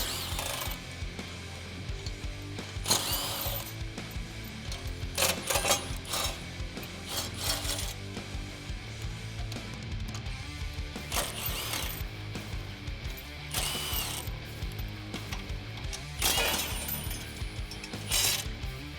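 A ratchet backs out 15mm bolts on the front bumper mounting brackets of a 2016-2018 Chevrolet Silverado 1500, producing repeated bursts of close, crisp clicking separated by short pauses and metallic handling noises.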